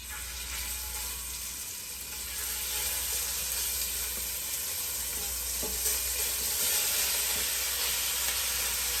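Pork chunks fry in hot oil in a heavy pot for brown stew pork, a steady close sizzle and hiss that swells slightly after the first couple of seconds, with no voices.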